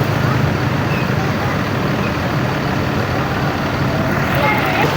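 Steady roar of tour buses and traffic at the Kayu Manis 7 highway rest area, with dense engine rumble and broadband road noise throughout. Close and continuous, with a faint voice somewhere in the mix.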